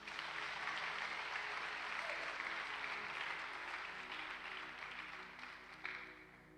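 Church congregation at a worship service applauding together, a steady dense clapping that holds loud and even before tapering slightly near the end, with a brief sharper burst late on.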